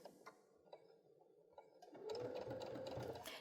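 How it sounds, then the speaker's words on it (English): A domestic sewing machine fitted with a Baby Lock garment maker foot stitches fabric, starting after a couple of soft ticks and building into a steady, close whirring run of stitches for the last second and a half. "I'm just going to start by taking a few stitches."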